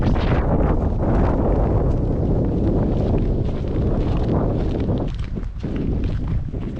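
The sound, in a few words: strong wind blowing at the coast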